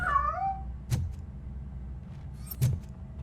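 A cat meows in the video game RoboCop: Rogue City, a clear rising-and-falling cry at the start followed by two sharp knocks or clanks over a steady low hum.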